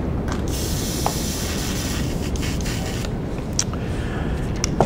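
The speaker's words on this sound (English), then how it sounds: "Run a little bit of airbrush cleaner through it." Airbrush spraying cleaner through its nozzle while being cleaned out, a steady close hiss of air and fluid running throughout, with a few faint clicks and ticks from handling the tool.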